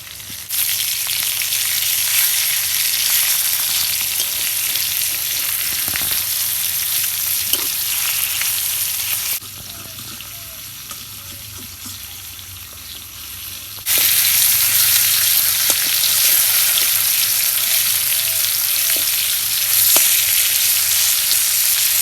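Pangas fish fries in a pan with a loud, steady sizzle that dips for a few seconds and then returns stronger, with occasional faint crackles.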